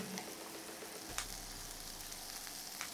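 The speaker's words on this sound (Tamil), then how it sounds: "ஸோ 2 big onions ரஃப் சாப் பண்ணி இதில் நல்லா சாட்டே பண்ணிக்கலாம்." Two big roughly chopped onions sautéing in a pan for paneer tikka masala, a steady low sizzle and crackle with faint stirring scrapes, no voices.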